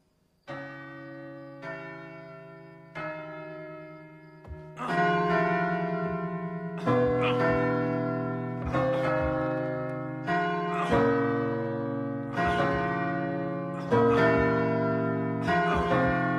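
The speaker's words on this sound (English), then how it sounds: "Bells." Church bells ring out in a steady, overlapping peal, each strike sustaining a rich ringing tone that builds into a dense chime, loud and alone without voices.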